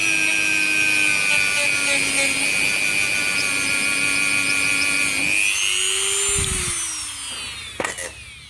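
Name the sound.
Dremel rotary tool smoothing fuel tap O-ring face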